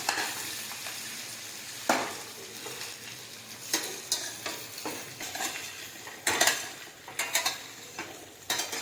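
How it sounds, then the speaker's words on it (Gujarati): Dudhi muthiya, steamed bottle-gourd dumplings, tossed with sesame seeds in a hot pan, giving a steady sizzle broken by irregular scraping strokes of a spoon against the metal, close and fairly quiet, with no talking. "હવે તેમાં મુઠિયા નાખી દઈશું અને મિક્સ કરી દઈશું."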